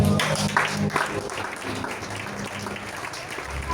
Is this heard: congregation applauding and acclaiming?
yes